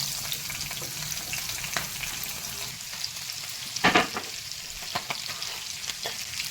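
Cumin, dried red chilli, lightly crushed garlic and nigella seeds sizzle steadily in hot oil for a Bengali fish curry, with a brief louder stir or spatter midway and a few soft clicks.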